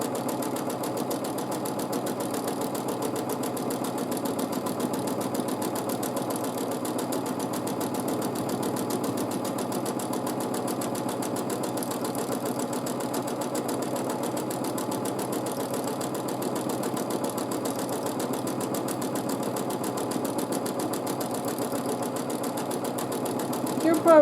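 Domestic sewing machine free-motion quilting fabric, a steady continuous motor whir and needle chatter at close range running unbroken throughout, with a voice talking over it.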